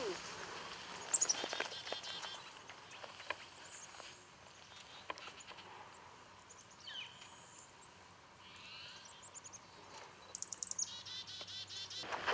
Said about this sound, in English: look at the chickadees up there. There's like several chickadees in that little snag here.